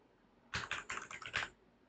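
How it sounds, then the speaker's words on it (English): Fast typing on a computer keyboard, close and clear, a burst of about a dozen quick key clicks lasting around a second against a quiet background. "I was just typing"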